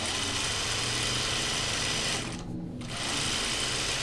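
A sewing machine runs steadily through fabric while sewing curves, a loud, close, continuous whirring hum that dips briefly for a pivot before resuming.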